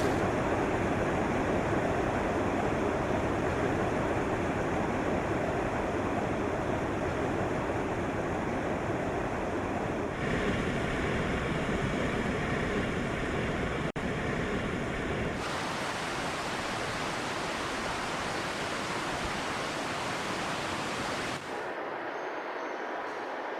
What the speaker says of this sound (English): Her waters begin their flow from springs and streams emerging from the mountain